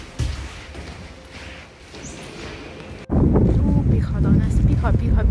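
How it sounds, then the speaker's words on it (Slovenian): Wind blowing outdoors on a gusty day, a constant low rushing roar against the microphone that suddenly grows much stronger and louder halfway through. "Piha danes, piha."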